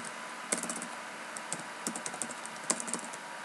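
Someone types on a computer keyboard, entering a web address in a browser. Irregular, close, light clicks come in quick bursts with short pauses, and no one speaks.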